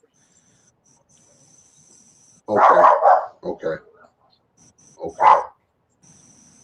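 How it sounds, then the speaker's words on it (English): A small dog yips and barks in a few short bursts indoors, close by, with a faint steady insect-like whine in the background and a brief spoken word nearby. "Excuse my dog if you guys hear my little dog."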